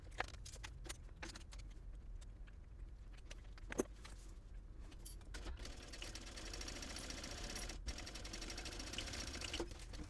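A sewing machine stitches a 3/8 inch seam on a fabric packing cube, a faint, steady rapid needle patter running throughout with a few small clicks.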